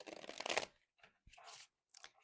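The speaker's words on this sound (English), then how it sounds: "oh, that was a poor shuffle" A deck of tarot cards is shuffled by hand in several short riffling bursts, the first long and loud, the next ones briefer with small gaps between, close up and with no talk.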